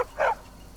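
A single short dog bark from a Skyrim NPC dog, fairly close and clear, standing alone against quiet background noise.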